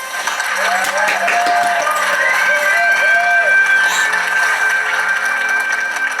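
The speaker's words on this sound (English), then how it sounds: "Everybody, the biggest round of applause for the best and bravest Time Lord of them all" A crowd applauds, cheers and whoops loudly for the Doctor Who Time Lord at a Christmas behind-the-scenes gathering, a sustained wash of clapping with excited shouting voices layered on top.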